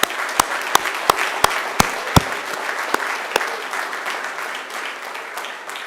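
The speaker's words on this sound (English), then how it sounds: "turn to one another and give yourselves a huge round of applause" Macquarie University graduates at their graduation ceremony give themselves a round of applause: a dense, steady wash of clapping from a large indoor crowd, with several louder individual claps standing out near the start before it settles.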